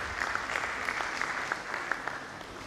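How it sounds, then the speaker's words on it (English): Steady applause from an audience at a university management sciences conference, with distinct individual claps over a continuous wash that eases slightly toward the end. "Thank you very much for clapping for yourself"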